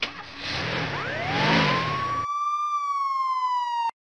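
Police car siren in an animated cartoon, a wailing tone that rises over engine and street noise, then rings out alone as a clean electronic wail before cutting off abruptly.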